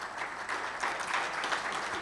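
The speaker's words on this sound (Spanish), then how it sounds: "muchas gracias por los aplausos" An audience at a regional economy conference in Argentina applauds, a dense, steady wash of clapping from many hands in the room that lasts a couple of seconds with no voices over it.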